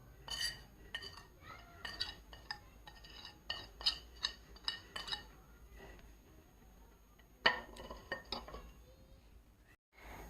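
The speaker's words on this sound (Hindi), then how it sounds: "ये जो हमने तमाम स्पाइसेस ऐड किए हैं इनको अच्छे से मिक्स कर लेंगे।" A utensil scraping and clinking against a pot while spices are mixed into a chicken samosa filling, a series of sharp, close metallic taps and scrapes in irregular rhythm, with one louder clank near the end.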